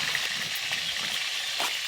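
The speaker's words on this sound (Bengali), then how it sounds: "সব মাছ এইভাবে লাল লাল করে ভেজে নিয়েছি" Fish, including rupchanda and katla, frying in hot oil in a pan until reddish-brown, giving a steady, close, continuous sizzle with a few louder crackling spits and no talking.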